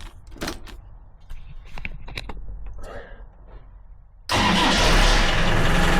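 A Nissan Micra starts on the ignition key. Close-up clicks and mechanical clunks come first, then the engine catches abruptly and settles into a loud, steady run.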